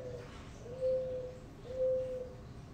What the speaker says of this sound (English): What is that bird? Is that a mourning dove?